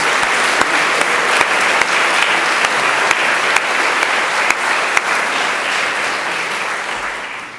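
A loud, full round of applause from a senior banquet audience honoring faculty and students, many hands clapping close and continuously, with a few sharp individual claps standing out before it begins to taper at the end.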